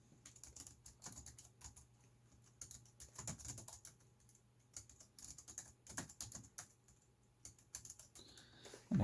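Fingers tap on the laptop keyboard of a Dell Latitude CS, a fast irregular run of light clicks and clatters, close but quiet, with brief pauses between bursts.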